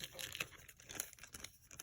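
A small plastic bag from a survival kit packed in a sardine can crinkles and rustles up close in quick, uneven bursts, fairly soft, with no talking.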